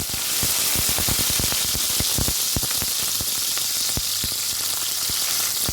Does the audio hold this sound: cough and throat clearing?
no